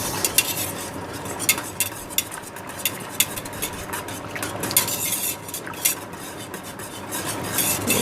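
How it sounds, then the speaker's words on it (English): Brown sugar is stirred into apple cider in a pot while making jelly, with continuous close scraping and rhythmic clinking of a spoon against the pot, plus a light simmering sizzle underneath. "Stir it really well to incorporate all that sugar, breaking up all and any clumps."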